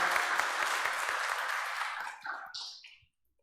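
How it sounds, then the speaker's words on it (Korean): A standing congregation at a Korean church Sunday service gives congratulatory applause: thick, busy clapping from many hands that holds steady, then thins out and stops just before the end. "우리 축하의 박수를 한번 좀 보내줍시다"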